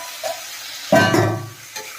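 Maggi noodles frying in a pan with egg and onion, a soft sizzle with a couple of spatula scrapes and one louder clattering stir in the middle, close up and without speech.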